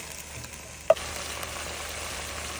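Tomato cooking over raised heat in a pot for a cow-foot and white-bean stew gives a steady, quiet sizzle, with one brief clink near the start.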